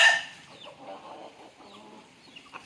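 Native country chickens in a coop give soft, low clucks and brief murmuring calls, faint and scattered after a louder opening burst, with no talk.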